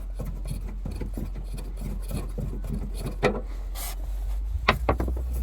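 Plastic taillight retaining knobs on a Dodge Charger being turned and unscrewed by hand, giving close, steady rubbing and rasping with a few sharper clicks near the end.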